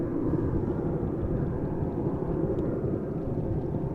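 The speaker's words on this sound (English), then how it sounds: "Another departure over here from runway 24." Jet airliner departing runway 24 at Amsterdam Schiphol, a steady broad low roar of engine noise rumbling continuously at moderate distance, with no voices.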